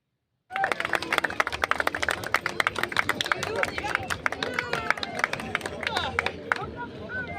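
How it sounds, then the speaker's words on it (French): A dense, steady crowd applause for a street show on a square in La Rochelle erupts suddenly after a brief silence and continues strongly for about seven seconds, with scattered cheering voices mixed into the clapping. "les gens, ils applaudissent très"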